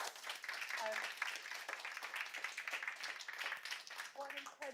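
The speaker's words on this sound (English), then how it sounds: "Can we give them a round of applause?" Audience applause at a research results reception, continuous clapping heard from a moderate distance with brief voices breaking through at a couple of points.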